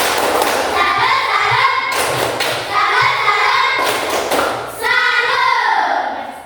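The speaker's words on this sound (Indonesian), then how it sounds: "Mari kita tepuk salut" Schoolchildren in a classroom perform a rhythmic clapping routine, with loud, patterned bursts of hand claps and thumps in repeated phrases, mixed with the children's voices chanting along.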